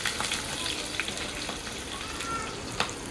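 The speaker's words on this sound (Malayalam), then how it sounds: "ശേഷം ഇഞ്ചി, വെളുത്തുള്ളി, പച്ചമുളക് ചേർത്ത് നന്നായി വഴറ്റുക." Ginger, garlic and green chilli sauté in a pan for beef pickle, giving a moderate continuous sizzle with scattered crackles and soft stirring clicks, close by.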